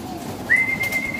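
Racing pigeons at feeding time give a single rising whistled call that holds steady for about half a second, heard close over a low, busy background.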